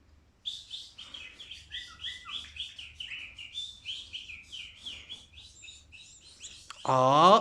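A bulbul in a cage chirps and tweets in rapid, busy bursts, fairly close and continuous, ending in a louder, harsher trill.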